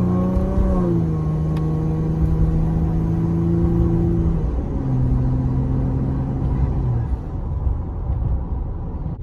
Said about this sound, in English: here's a small, medium acceleration